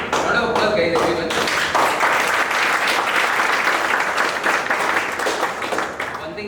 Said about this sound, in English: round of applause, guys, everyone